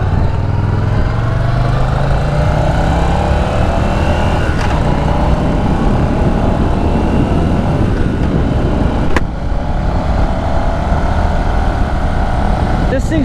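Yamaha Virago 750 motorcycle engine idling steadily up close, a continuous loud low rumble with slight rises in pitch, recorded outdoors with no one talking.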